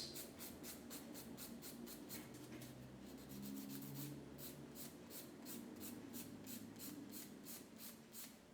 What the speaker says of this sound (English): Quick file over, just to make sure that there's no roughness or grooves or dents on the surface.